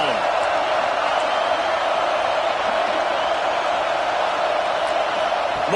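A football stadium crowd roars in a steady, dense wash of cheering that holds at full volume without a break, the broad noise of many voices filling the whole stretch.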